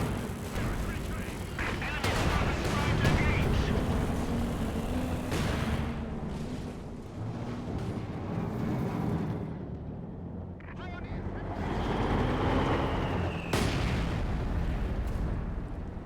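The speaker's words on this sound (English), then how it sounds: "probably throw a heavy Gammon Bomb here. Indeed, finish off the bunker" A heavy Gammon bomb blows up a bunker in a Company of Heroes–style strategy match: a loud, broad blast swells out of dense battle noise, with more booms, gunfire and explosions rolling on around it.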